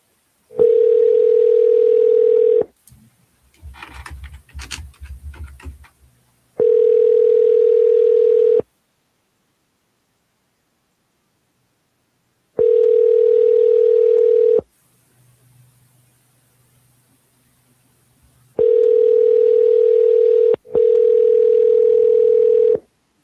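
Unanswered outgoing phone call ringing back repeatedly, a steady two-second ring tone sounding five times with silent gaps and a stretch of muffled low noise in between.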